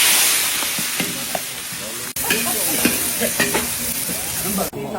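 Onion and ginger sauté in a pan for paksiw with a bright, loud sizzle and crackle, accompanied by intermittent stirring clatter and a couple of abrupt cut-offs.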